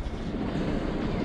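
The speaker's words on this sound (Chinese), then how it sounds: "前面那个是火影忍者电车" Naruto-themed train rolls past near Lake Kawaguchi, a dense steady rumble and rail rush, close and loud, with no voices.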